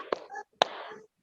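Two sharp hand claps, a single clap each time, set apart by about half a second and heard close up in an online class lesson.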